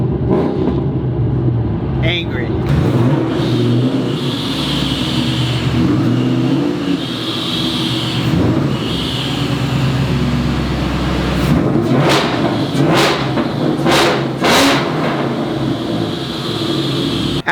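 A Ford Mustang Terminator Cobra with hail damage revs loudly and close, its engine a deep, steady rumble with rising surges. Someone talks over it briefly.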